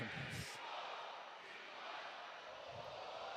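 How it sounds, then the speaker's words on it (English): A hockey arena crowd roars faintly in the distance at a Miami RedHawks versus Omaha Mavericks college game, a steady, low wash of cheering. "Miami crowd really into this one"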